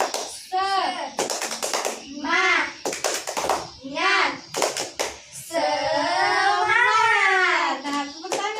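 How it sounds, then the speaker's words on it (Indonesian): Children in a classroom chant together in a rhythmic "tepuk semangat" cheer, punctuated by bursts of sharp group clapping in short patterns, with a long sustained shout near the end. "Tepuk semangat"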